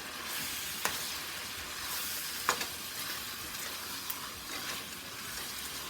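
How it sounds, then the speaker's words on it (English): Tomato paste stirred into a pot for Gullah red rice, a soft steady sizzle with a few faint scraping clicks of the spoon, fairly quiet and without talk. "Stir this in a little bit."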